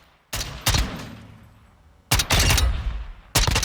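Four loud bursts of M110 SASS rifle fire in Call of Duty Modern Warfare II, the bipod-mounted marksman rifle snapping off sharp rapid shots spaced in an uneven rhythm, each crack followed by a brief decaying tail.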